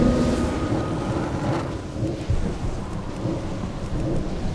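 Lightning strike spell cast during a World of Warcraft cross-realm raid, a sustained rumbling, crackling roar like a thunderstorm with rain-like hiss, steady and loud throughout with a few brighter crackles.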